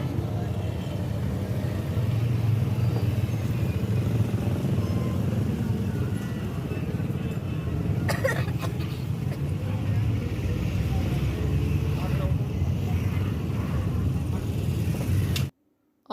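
Inside a moving car carrying passengers, a steady low road and engine rumble fills the cabin, with faint voices murmuring over it, until the sound cuts off abruptly at the end.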